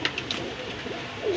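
Racer pigeons coo softly at close range at a pigeon sale, a few low murmuring calls over faint background hum.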